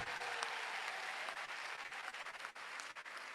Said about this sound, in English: Can we give you another applause?